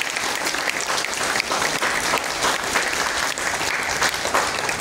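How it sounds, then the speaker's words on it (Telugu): Loud, dense applause from a large audience at an ashram gathering honouring IAS officers, sustained for about five seconds without a break. "ఒకసారి గట్టిగా చప్పట్లు కొట్టారు"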